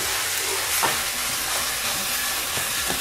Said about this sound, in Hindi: गार्लिक के साथ हम इसे 1 मिनट फ्राई करेंगे और अब हम कीमा ऐड कर देंगे